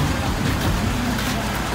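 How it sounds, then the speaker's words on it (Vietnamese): Heavy rain pours down in a steady, dense broadband hiss that fills the whole stretch at a constant level, with no pauses or separate drops standing out. "ôi mưa to luôn rồi"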